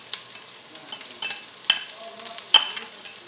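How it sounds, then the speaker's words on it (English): Thinly sliced celery browning with onions in a pan, light sizzle with scattered sharp clicks of a utensil stirring, close and clear. "we're just going to brown this along with the onions for a few minutes"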